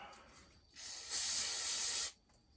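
A single hissing spray burst from a spray bottle of cleaner onto a McCulloch Super Pro 81 chainsaw engine during teardown, lasting over a second, close and loud against a quiet background.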